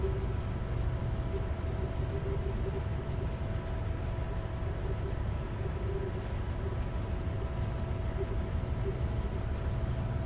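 An SP SD70M-hauled long freight train on Donner Pass in Train Simulator 2015 rumbles steadily, a constant low, droning roll with a faint hum, unbroken and even throughout.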